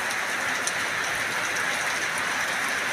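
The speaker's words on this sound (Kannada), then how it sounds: "ಇವಾಗ ಮಳೆ ಕೂಡ ನಾನು ತೋರಿಸ್ತಾ ಇದ್ದೀನಿ" Rain falls steadily over pigeon pea fields in Gadilingadalli village, Chincholi taluk, Kalaburagi district, North Karnataka, an even, dense hiss of drops with no breaks, loud and close.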